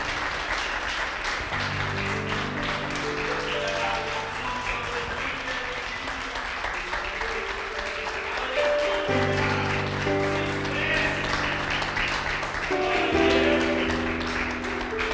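Congregation applauding during a church worship celebration, sustained clapping over a held keyboard or organ chord accompaniment throughout.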